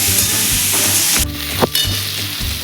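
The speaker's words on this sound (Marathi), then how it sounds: "कांदा छान असा आपण परतून घेऊया" Chopped onion sautés in a pan for poha, a loud, close, continuous sizzle broken by a few clattering stirs of the spoon against the pan.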